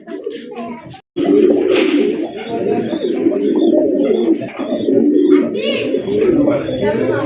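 Many pigeons on a pigeon farm coo close by in a continuous, layered, throaty chorus that runs almost the whole time. A few light chirps come through above it, and a brief gap falls near the start.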